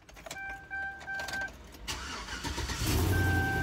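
A car engine cranking with a whirring starter and mechanical ticking, catching briefly and then rumbling unevenly at close range while a warning chime sounds in the background.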